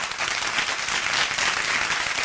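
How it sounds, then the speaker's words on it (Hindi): Steady, dense applause from a crowd at a student award ceremony in Khatauli, India, sustained clapping without pause. "जोरदार तालियां इस बच्चे के लिए।"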